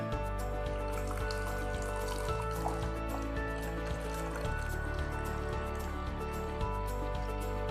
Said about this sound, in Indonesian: terus kemudian Pak Adi isi airnya